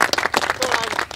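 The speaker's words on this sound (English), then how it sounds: "He deserves another round of applause." Audience applause at a Virginia governor's news conference: a brief burst of dense, steady clapping from a crowd, close and fairly loud.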